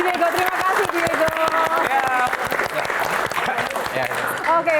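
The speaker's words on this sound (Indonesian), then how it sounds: "tepuk tangan untuk Diego" An audience at a live Q&A talk show bursts into sustained, dense clapping that fills the whole stretch, with a voice and other sounds running over the applause.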